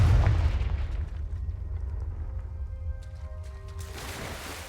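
A Confringo blasting spell from Hogwarts Legacy detonates with a loud, deep boom at the start, its low rumble rolling out and slowly fading over several seconds while faint tonal game sounds drift in near the end.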